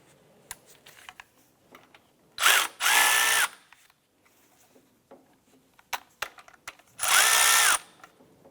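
A gear wrench ratchets on a belt bolt of a 2001-2005 Honda Civic during a power steering pump replacement. Two loud, close bursts of rapid buzzing ratchet clicks come a few seconds apart, with scattered light clicks and knocks between them.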